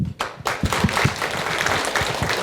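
An audience at an academic colloquium applauds: a burst of many hands clapping that starts abruptly, stays loud and steady, and runs on without voices over it.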